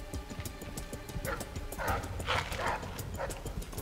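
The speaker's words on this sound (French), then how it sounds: "C'est une cage pour ces maudits chiens." Caged dogs in the video game Dishonored 2 give several barks and yelps over a steady, rhythmically ticking game background.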